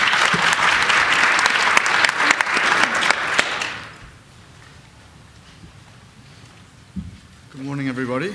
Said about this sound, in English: So a warm round of applause for Ian and our panel.